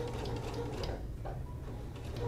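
A domestic sewing machine bastes a collar seam on a small top: a quiet, steady rapid mechanical whirr with a fine ticking rhythm, alone and uninterrupted.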